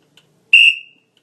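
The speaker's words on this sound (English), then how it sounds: "The jam starts on the first long whistle." A single sharp referee whistle blast starting a roller derby jam, loud and close, lasting about half a second before fading, with silence around it.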